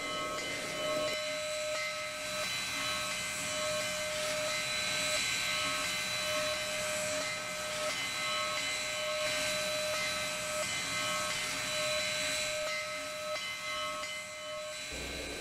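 Steam locomotive in the Trainz railroad simulator at the Burt Street crossing in Springfield, Ohio, hissing loudly and continuously with a steady high whistle-like tone running underneath, close and unbroken for the whole stretch.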